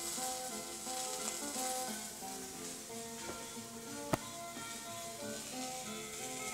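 An old record pressing plays steadily with a full, continuous musical sound, surface crackle and a brief sharp click partway through, with no talking.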